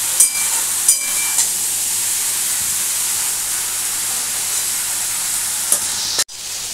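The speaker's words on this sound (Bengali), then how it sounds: "এটা এখন ভালো করে আমাকে ভাজতে হবে।" Eggplant and shrimp frying in a pan give a steady, close hiss and sizzle with a few brief clinks near the start and a sharp knock near the end.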